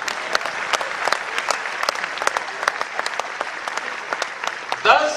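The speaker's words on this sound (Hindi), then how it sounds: "एक नया पैसा टैक्स नहीं बढ़ाया है, ताली इस पर बजनी चाहिए।" Crowd applause at a political speech in Gujarat, scattered sharp claps in an uneven rhythm that thin out, ending in a brief louder noise.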